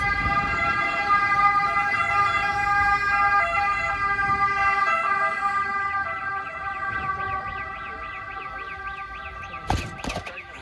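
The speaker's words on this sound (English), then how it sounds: "Sorry, there's an ambulance." An ambulance siren wails steadily with rising and falling tones, loud and close, over a low traffic rumble, fading slightly as it passes.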